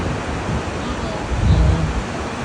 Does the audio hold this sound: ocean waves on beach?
yes